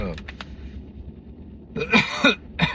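A couple of short, harsh coughing bursts close to the mic, preceded by faint breathy throat sounds, with a quiet background hum.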